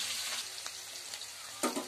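Chopped onion and chili dropped into hot oil in a home kitchen, giving a steady close sizzle and frying hiss with a brief louder burst near the end.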